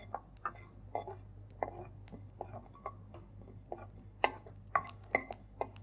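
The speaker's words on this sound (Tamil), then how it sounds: "அதுக்குள்ளே நம்ம சீரகத்தை வறுத்து எடுத்துக்கலாம்." Cumin seeds dry-roasting in a pan, with irregular light clicks and ticks of seeds and spoon against the metal, spaced out over a quiet background hum.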